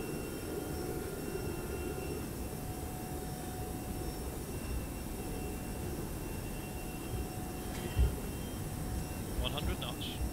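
The ToLiSs A321 jet engines in X-Plane 11 spool up for takeoff with a steady, even, broadband roar that stays constant throughout, while a voice speaks over it.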